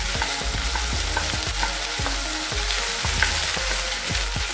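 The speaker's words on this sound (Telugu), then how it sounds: "వీటిని 2-3 నిమిషాలు ఇలా ఆయిల్లో ఫ్రై చేసుకోవాలి." Okra frying in oil in a pan, a steady dense sizzle broken by regular stirring scrapes about every half second, close and fairly loud with no talking.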